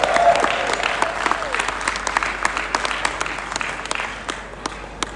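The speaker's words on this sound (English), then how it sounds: "give her a round of applause." A wedding dinner crowd claps and applauds, starting loud and gradually thinning out, with a brief voice over it at the start.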